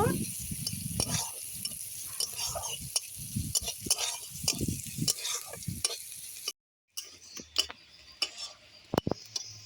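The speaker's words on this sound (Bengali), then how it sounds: "পেঁয়াজটা একটু ভাজা ভাজা করে নেব" Onions frying in hot oil in a wok, tempered with a dried red chilli, sizzle steadily while a utensil stirs and scrapes in close, irregular strokes, with a brief dropout partway through and no voices.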